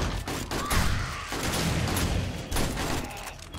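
AK rifle fire in the zombie survival game 7 Days to Die during a blood moon night, heard as rapid bursts of loud close shots with a few heavier booms, nearly continuous with brief gaps.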